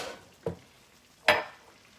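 Pineapple and chicken stir fry with sesame and ginger in a frying pan; two short bursts of sizzling and stirring, one faint and one louder, close by, with quiet gaps between.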